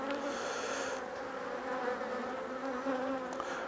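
Honey bees buzz in a steady, dense hum at an open hive during a beekeeping inspection. The drone is continuous and close, with no voices heard.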